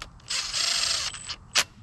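Ratchet running down 10 mm oil pump bolts on a high-mileage LQ4 LS engine, giving two long bursts of rapid clicking and a short final snap, close and clear with no talk.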